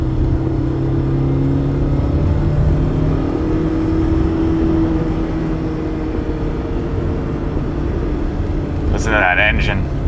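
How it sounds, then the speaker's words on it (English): A BMW E30 M3 engine drones steadily at high revs around 5,000 RPM, its pitch rising and falling slightly, loud and close throughout, with a brief voice near the end. "Listen to that engine"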